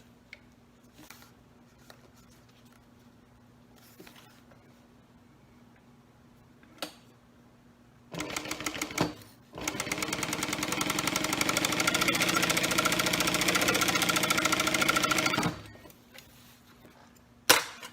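A sewing machine stitches a quarter-inch seam on a vinyl zipper pouch in a fast, loud mechanical run of about seven seconds, with a short start, a pause and a few clicks and handling noises before and after.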